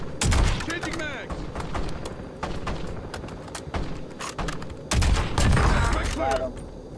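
Rapid bursts of gunfire in Call of Duty, sharp cracks and volleys coming in clusters, loud and close, with a voice talking over parts of it.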